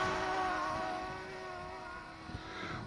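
DJI Mavic Mini drone motors held at full throttle in its slowest Cine mode, a steady high-pitched tonal whine with harmonics that stays loud and constant throughout, with no talking.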